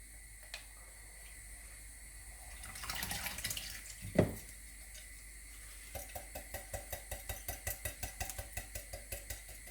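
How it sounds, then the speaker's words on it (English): Water runs from a tap into a sink during comfrey salve making, starting with a soft rushing and clatter, then settling into a steady run with rhythmic, close dripping or splashing pulses. "just switch the water back on because we need it hot again"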